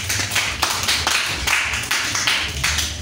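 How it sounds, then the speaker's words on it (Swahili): A church congregation claps in rhythmic bursts, several hands beating in roughly regular pulses close by, with a low background hum and no speech. "Tupigie dada makofi."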